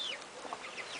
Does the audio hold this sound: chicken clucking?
yes